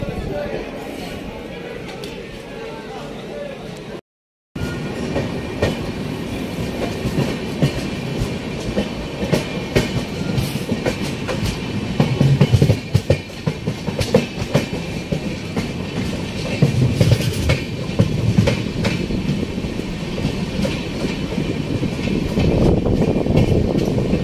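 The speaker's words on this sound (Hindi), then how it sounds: "ट्रेन यहाँ से डिपार्ट ले रही है, ये मैसूर से आई है और सिमोगा टाउन को जा रही है" Train from Mysore bound for Shimoga Town pulling out of a station, with rhythmic wheel clatter and rumbling carriages that swell and fade over a long stretch, plus scattered background voices and a brief dropout near the start.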